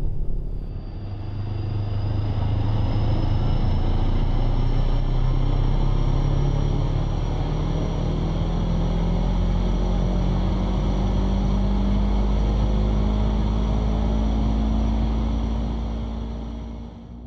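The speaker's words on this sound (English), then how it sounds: "Okay, engine run-up looks good." An aircraft engine runs up in the X-Plane 11 flight simulator, giving a loud, steady droning roar with a slowly rising whine that holds for most of the stretch, then eases off near the end.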